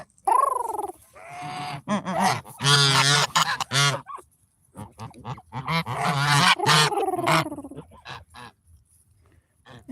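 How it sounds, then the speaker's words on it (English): Young geese, this year's goslings, honk close by in a run of loud, nasal, wavering calls, several overlapping bursts separated by brief pauses. "These are this year's goslings"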